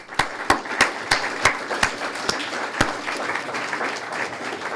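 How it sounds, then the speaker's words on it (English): Applause from an audience at a university graduation and awards ceremony, with sharp individual claps standing out over a steady bed of clapping that carries through the whole stretch. "I'd like a round of applause for our two superheroes."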